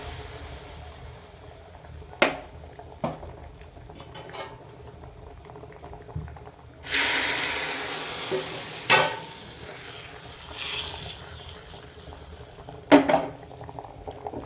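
Fried onion mixture poured into a bubbling fish curry in a clay pot gives a sudden loud sizzling hiss over steady simmering, with occasional sharp clinks of a utensil against the pot before and after.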